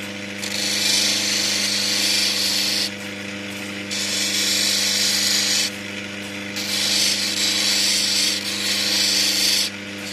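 A grinding wheel shapes a raw Australian opal, giving a loud, steady whirring grind in three long passes separated by brief lighter pauses, with no talking.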